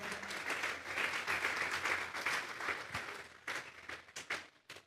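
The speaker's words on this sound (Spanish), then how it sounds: "Vamos a darle un aplauso a Dios" A church congregation claps together in steady, sustained applause that thins into scattered claps and fades near the end.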